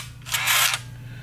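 A Minolta Freedom 1 35mm point-and-shoot film camera fires its shutter up close, giving one brief, crisp mechanical click-whir over a low steady hum.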